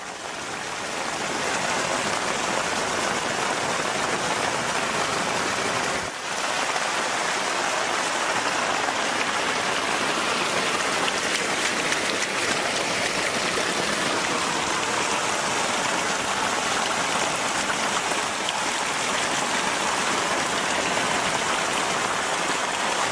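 Floodwater flows through a housing subdivision with steady, broadband rushing that continues without a break, loud and close, briefly dipping once near the start, with no voices.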